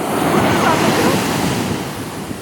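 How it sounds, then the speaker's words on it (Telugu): Sea waves at Ajman Beach in the UAE wash in as a continuous, fairly loud surf roar mixed with gusting wind buffeting the microphone, with no speech. "ఓ ఇదంతా సముద్రం చూడండి బాగుందండి"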